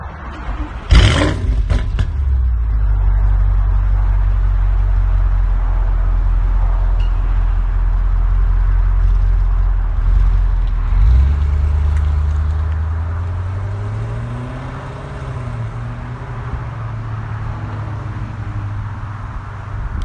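A modified 750bhp Audi RS7 gives a sharp burst, then a deep steady engine drone as it drives along a road, the note shifting and rising near the middle before settling lower, loud and close with no talk.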